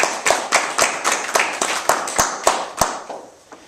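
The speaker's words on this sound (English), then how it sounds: "Can we have a round of applause for the executive," A small audience at a Vancouver user group's annual general meeting claps for the executive, a sparse round of individual hand claps at an uneven rhythm that thins out and fades by the end.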